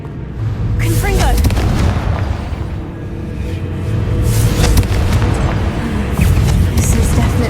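The Confringo blasting spell goes off in Hogwarts Legacy, a loud, booming explosive burst in a game combat scene, followed by rumbling crackle and debris noise.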